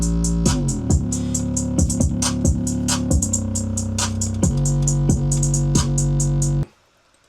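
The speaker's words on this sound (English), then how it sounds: "It just has a really basic hi-hat pattern" A simple, steady hi-hat pattern ticks in quick, even bright strikes over a deep 808 bass line in a hip-hop beat. It plays loudly without voices, then stops abruptly.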